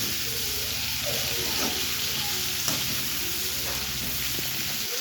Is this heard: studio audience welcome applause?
no